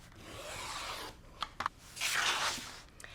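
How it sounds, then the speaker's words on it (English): A 1-yard fabric backing piece for a quilted pillow being cut in half: long rasping, swishing strokes of a blade through cloth with a few sharp small clicks between them, close and fairly quiet. "And I'm just going to cut it in half."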